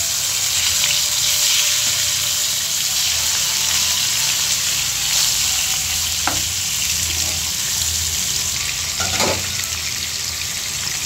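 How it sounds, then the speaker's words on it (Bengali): Hilsa fish sizzles steadily in a frying pan as its second side cooks, a dense, continuous crackle with a couple of brief louder spits, close up and without talk. "এখন আমি অন্য পাশ ভেজে নেব।"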